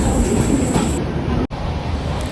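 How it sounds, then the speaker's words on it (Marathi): The Janshatabdi Express rumbles loudly and steadily close by at Dadar station in heavy rain, a dense rolling roar with a brief cutout midway. "ट्रेन इथे दादर स्टेशनला फक्त चार मिनटं लेट आलेली आहे"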